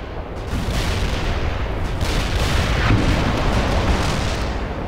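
Sustained artillery fire support barrages in the World in Conflict game, a dense continuous rumble of explosions and booms filling the whole stretch, loud and close, with no voices.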